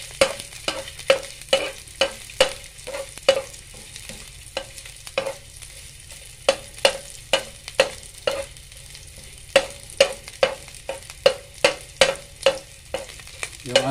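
Garlic fries in a pan under a rhythmic series of sharp utensil knocks and scrapes from steady stirring, with a soft sizzle running underneath.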